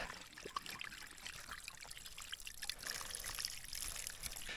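Running water pours and trickles over hands being washed at a bushcraft camp in below-freezing weather, a close, steady splashing stream with no talking.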